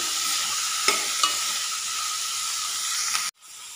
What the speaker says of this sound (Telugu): ఇప్పుడు ఇందులోకి కొద్దిగా కొత్తిమీర కడిగి వేసుకుందాం. వేసుకొని ఒకసారి ఇట్లా కలుపుకొని ఇంకా మూత పెట్టేసుకోవాలి.